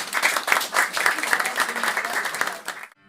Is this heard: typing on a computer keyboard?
no